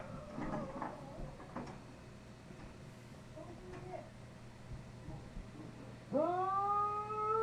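A wounded intruder who has just been shot lets out a loud, drawn-out whine that rises in pitch near the end, following a stretch of faint, muffled background noise.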